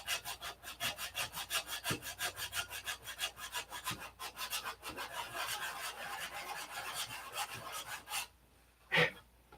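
Rhythmic scraping of sandpaper on wood, quick even back-and-forth strokes close by, stopping near the end before one last short rub.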